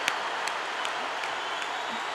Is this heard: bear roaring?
no